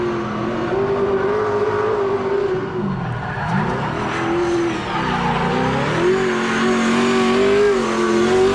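Race car drifting on nearly worn-out tires at a raceway test day, its engine revving loud and steady close by as the pitch rises and falls, with tire squeal underneath.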